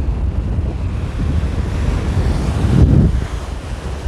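Strong wind roars across the microphone as surf breaks on a beach at Praia do Porto in Barreiros, on the south coast of Pernambuco, Brazil. It is a loud, steady rush with a heavier swell of waves near the end and no voices.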